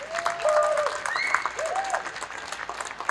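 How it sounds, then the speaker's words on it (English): An audience claps at the 2022 Women in Screen Printing and Wide Format Awards ceremony, sustained applause that fills the room while whistles or cheers rise briefly above it. "let's give these women another round of applause"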